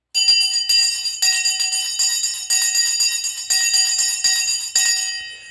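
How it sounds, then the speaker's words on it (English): A stock market closing bell rings loud and close in repeated bursts, five or six clanging strokes over a sustained metallic ring, with no voices. "The bell has now gone."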